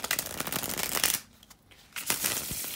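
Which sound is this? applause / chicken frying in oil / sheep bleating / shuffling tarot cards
shuffling tarot cards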